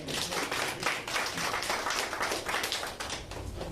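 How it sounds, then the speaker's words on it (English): A small audience at a Richmond political event on early voting gives a round of applause. The clapping is quiet, scattered and steady, heard from a distance with no speech over it. "Another round of applause for Aaron's work."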